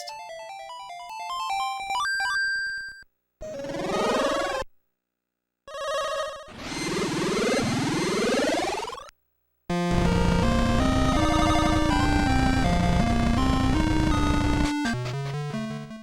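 Synthesized Game Boy-style eruption effects from Zelda: Oracle of Ages: loud bursts of electronic tones and fast rising sweeps separated by short silent gaps, then a dense, busy stretch of chiptune sound.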